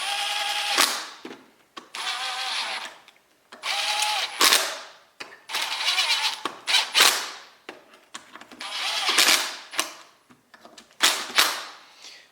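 An impact wrench runs down engine bolts on a broken Kawasaki Mule utility vehicle, firing in repeated short bursts of rattling hammering separated by brief pauses, close and fairly loud.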